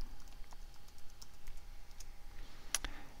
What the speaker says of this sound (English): So let me type that in here.